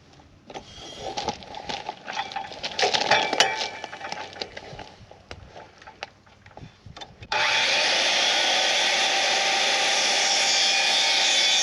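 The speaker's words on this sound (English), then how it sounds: "we'll have to bring this to the saw and trim off just a little bit of this edge right here" A power saw trims the edge of a wooden wall-framing board: clinking and handling noises first, then the saw starts and holds a loud, steady, bright whine to the end.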